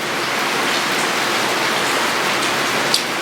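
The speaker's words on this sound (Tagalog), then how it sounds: "Tapos pakinig, pakinig pa yung malakas na ulan" Heavy rain pours down in a dense, steady hiss with no letup, loud and close, with a single faint tap near the end.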